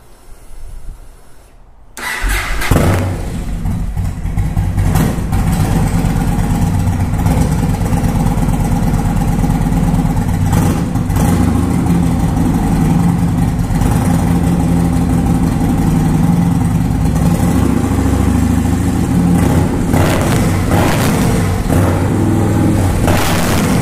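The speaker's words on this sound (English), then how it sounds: "Let's start the engine one more time." A Yamaha Warrior 1700 motorcycle engine cranks and fires after a brief silence, then settles into a loud, steady, close-up idle with a deep throbbing rumble that carries on alone.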